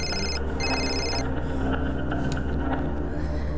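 A mobile phone rings with a repeated electronic tone in short bursts, moderately loud against steady background music and room noise, with no talking.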